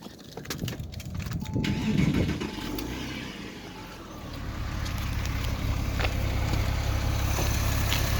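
A non-turbo 3.6 liter car engine cranks and catches, then settles into a steady low idle that continues close by.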